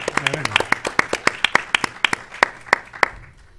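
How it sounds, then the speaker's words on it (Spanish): Welcoming applause from an audience at a panel talk, though only a few distinct sharp claps ring out in a slow, loose rhythm, close and fairly loud, with a voice briefly speaking at the start. "les pido un fuerte aplauso de bienvenida para el Chema"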